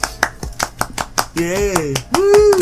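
Sharp, evenly spaced hand claps from a few people on a casual podcast, with cheering and whooping voices breaking in partway through.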